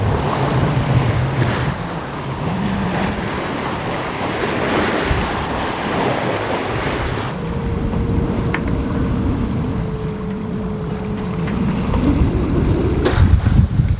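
Steady wind rush and breaking waves while sailing on open sea in the Golfe de Lion, a continuous broad roar with buffeting microphone wind noise and a faint tonal hum midway.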